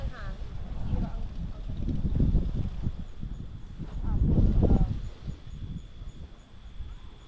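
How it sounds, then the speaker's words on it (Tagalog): Strong wind in an apple orchard buffets the microphone in deep, rumbling gusts, peaking twice, with people talking nearby. "Lakas naman ng hangin."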